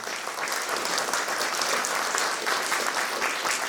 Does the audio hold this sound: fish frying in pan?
no